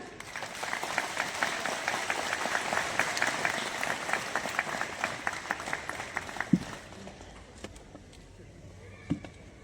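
Audience at a public function clapping together, steady mid-distance applause that fades out after about six seconds, followed by a few isolated claps and faint murmuring.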